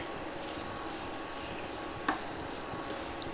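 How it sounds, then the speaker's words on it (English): Seasoning with white pepper simmering in a pan of vegan shrimp fried rice made with konjac: a steady, faint sizzle with one brief click partway through. "let that simmer together"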